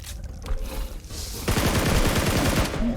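Gunfire in the PUBG Mobile video game, with a few scattered shots followed by a rapid automatic burst from about halfway through, loud and close with no voices.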